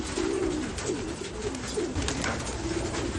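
A pair of indigo pigeons coos in low, soft repeated phrases under a steady background hiss, with no one talking.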